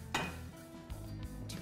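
Steamed carrots shaken in a pot and tipped into a bowl, giving a few quick metallic clanks and soft rattles, close and fairly quiet, over a low kitchen hum.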